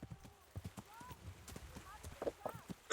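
Horse hooves clip-clopping in the video game Kingdom Come: Deliverance, a quick steady gallop of sharp hoof strikes with a few faint whinnies, heard under a person talking.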